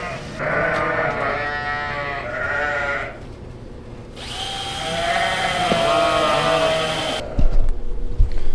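Several lambs bleat in a barn, their wavering cries overlapping almost continuously and fairly close, with a short quieter gap midway and some thumps and handling noise near the end.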